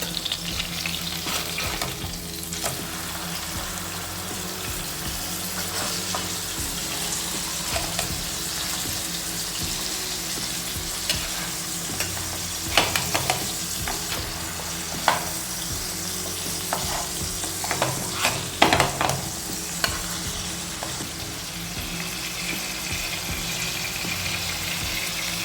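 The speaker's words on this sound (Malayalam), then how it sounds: "2 മിനിറ്റ് ലോ ഫ്ലെയിമിൽ ഒരു സൈഡ് നമുക്ക് വേവിക്കാം" Prawn ada fries in a pan over a low flame, a steady soft sizzle running throughout, with scattered clinks and scraping as the pieces are turned over.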